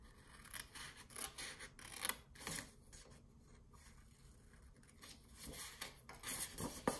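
Scissors snip through paper while rectangles are cut from the end of an A2 envelope being made into a flip album pocket, a few crisp close cuts spread over several seconds with quiet pauses between them.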